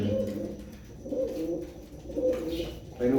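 Soft, low pigeon coos repeat in a gentle rolling rhythm, fairly close, with faint background noise.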